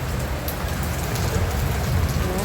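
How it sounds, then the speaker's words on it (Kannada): Heavy rain pours steadily, a loud, dense, unbroken hiss of drops drumming on surfaces close by, with no talking over it. "ಮಳೆ ಅಂದರೆ ಮಳೆ ನೋಡಿ"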